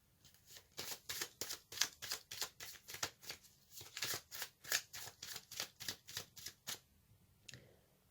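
Tarot cards being shuffled and drawn from a deck, a rapid run of close, crisp papery flicks in an even rhythm that slows and stops near the end, with no talking.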